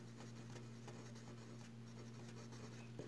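Someone erases a board with a run of faint, rapid rubbing strokes, quiet and close, laid over a steady low electrical hum, with no one talking.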